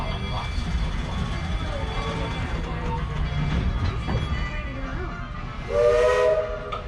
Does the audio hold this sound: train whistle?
yes